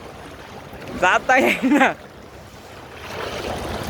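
Strong floodwater rushes through the streets and junction of Saykheda village near the police station, a steady broadband roar running throughout while someone speaks briefly over it.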